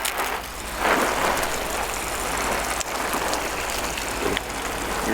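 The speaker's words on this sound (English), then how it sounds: "You're simulating a heavy rain at the moment, I guess?" Water sprayed onto a canvas tent treated with Thompson sealer to simulate heavy rain, a steady close hiss of spattering droplets running throughout with a few brief surges.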